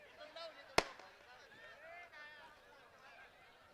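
A single sharp firecracker bang goes off at a village wrestling ground, standing out loudly over background crowd chatter and voices.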